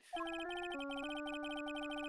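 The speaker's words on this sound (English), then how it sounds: "And I bet it was this ringtone that caused it." A phone ringtone from the video game Phoenix Wright: Justice for All starts abruptly and plays a bright, electronic melody of stepped beeping notes for about two seconds, quiet and alone.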